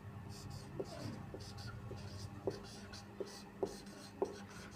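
A pen scratches across paper while a math lesson is written out, faint strokes with a few sharper taps at irregular intervals, quiet and close, with low room noise underneath.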